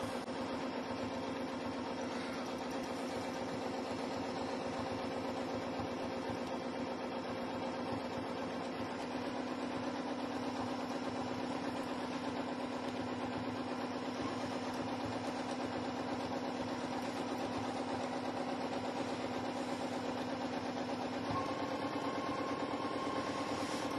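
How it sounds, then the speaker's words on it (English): Janome M7 sewing machine stitching free-motion quilting spirals at speed, a steady, continuous motor hum with fast even stitching, fairly loud and uninterrupted throughout. "So if you're one of those folks who likes to quilt fast, this machine will do it."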